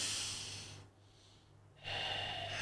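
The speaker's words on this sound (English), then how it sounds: "As easy as breathing." A person draws a slow, deep breath in a quiet podcast setting: a long airy inhale, then a hushed pause, then another steady rush of breath, close to the mic with no words.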